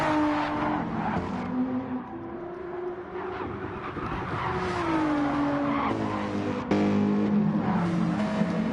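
Porsche and GTR race cars roar around Deep Forest Raceway in Project One GT. Droning engines rise and fall in pitch through gear shifts and braking, loud and close, with faint tire squeal and no talk.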